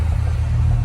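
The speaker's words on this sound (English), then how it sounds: "At idle, it's got a little bit of roughness." A freshly rebuilt 350 V8 in an El Camino idles with a slight roughness, a low, steady, close rumble that is heard alone.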